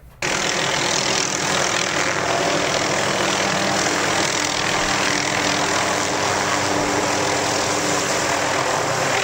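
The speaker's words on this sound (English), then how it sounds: "Today, right after lunch, I hear this helicopter, and I grab my video camera" A loud, continuous engine and rotor drone, steady and constant throughout, like an aircraft hovering close overhead.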